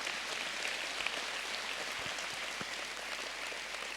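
Schoolchildren in an auditorium clap together, a broad, steady patter of many hands heard from a distance, with a few sharper nearby claps standing out.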